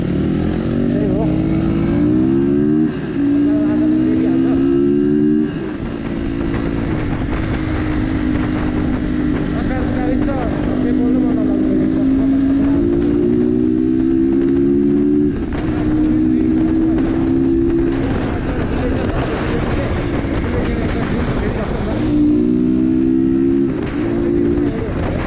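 Off-road dirt motorcycles, including a GR7 and an RM 250, ride a rough trail with a loud, close engine drone that climbs and falls as they rev through gears, along with wind buffeting the microphone.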